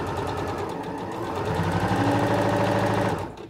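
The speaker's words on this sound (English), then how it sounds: "So now I'm going to sew all the way to the bottom" A Singer Professional 9100 sewing machine runs steadily through a seam, its fast needle chatter and motor hum loud and continuous for several seconds before easing off at the end.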